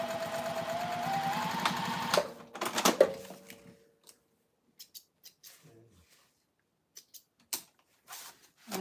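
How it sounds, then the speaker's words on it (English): A sewing machine stitches fabric pieces together in a steady close hum for about two seconds, then stops, leaving scattered light clicks and handling noises. "put a little needle here and sew these together"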